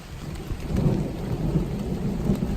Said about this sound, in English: The storm's starting to move in.